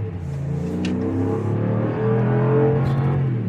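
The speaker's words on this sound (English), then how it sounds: "I'm gonna get this Hemi going" A Hemi-engined truck pulls away hard, its deep engine note climbing steadily in pitch and loudness as it accelerates, close and continuous for the whole stretch.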